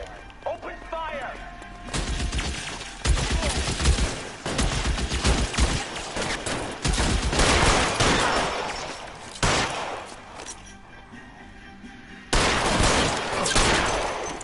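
Gunfire in the video game LA Noire breaks out in rapid bursts of loud shots and heavy impacts, rolling almost continuously while voices shout over the shooting.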